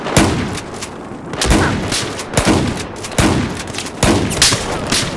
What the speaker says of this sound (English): Machine gun are operating to your north